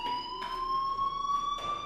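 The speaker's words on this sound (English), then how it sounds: "do you hear that fire alarm?" A fire alarm rings in the video game Life Is Strange: a steady, shrill electronic tone with layered pitches, sounding continuously for about two seconds with a few faint bursts of background noise.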